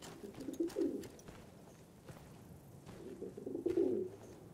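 Pigeons coo in the Battlefield 1 video game, two soft, low rolling coos a few seconds apart over quiet ambient background.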